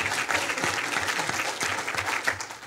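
Sustained audience applause fills a keynote hall during the LAGCOE 2017 LNG CEO panel: dense, steady clapping from a large crowd, close and loud, running without pause throughout.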